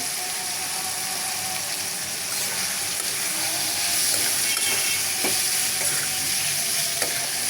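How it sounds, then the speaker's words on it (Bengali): Vegetables sizzling and frying in a hot pan as chopped tomatoes join okra, with a steady broad hiss that grows slightly louder midway, plus occasional stirring scrapes and clicks; no talking. "এখন দিয়ে দেবো কেটে রাখা টমেটোগুলো"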